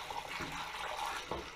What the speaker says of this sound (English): I'm just gonna pour it straight in to my fermenter, which has already been set up ready